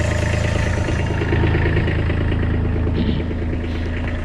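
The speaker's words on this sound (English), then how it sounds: "Let me crank this tractor up right quick" A tractor engine idles steadily and loud up close, a continuous low rumbling chug with metallic clatter and no talk over it.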